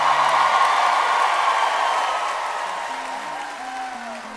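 A Grand Ole Opry concert crowd applauds in a dense, continuous wash of clapping that gradually fades, while a voice begins speaking over it toward the end.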